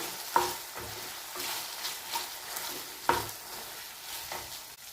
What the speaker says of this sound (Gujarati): તો એકવાર આપણે શાકને હલાવી લઈશું